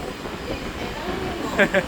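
A train passes through a station in Chennai, rumbling along steadily with a broad, noisy roar, and brief bright screeching bursts near the end.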